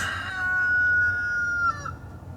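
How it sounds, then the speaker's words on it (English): A rooster crows once, a long drawn-out call that rises then holds, with a low background rumble. "Rooster."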